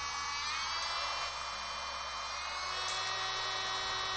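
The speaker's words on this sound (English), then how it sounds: "This is what you want your drill to sound like after you're done cleaning it." A freshly cleaned electric nail drill gives a steady high-pitched whine throughout, smooth and unbroken, with a faint brief flutter near the middle; moderately quiet, no voices.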